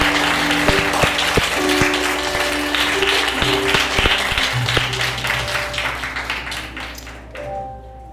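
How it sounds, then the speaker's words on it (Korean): A church congregation claps during a Sunday worship service, sustained applause mixed with sharp individual claps and sung or spoken tones underneath, fading toward the end. "박수함으로 높이 올리는 이 시간 되었으면 좋겠습니다"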